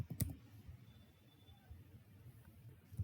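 Light clicking of a computer keyboard as HTML meta tag code is typed, a few soft scattered keystrokes with sharper taps near the start and end over a quiet background.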